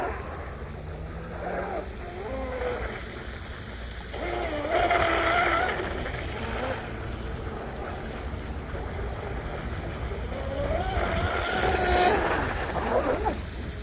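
A brushless-converted MRP Bud Light RC tunnel hull boat runs across open water, its motor whine rising and falling as it passes amid steady wind and wave noise, with a voice faint underneath.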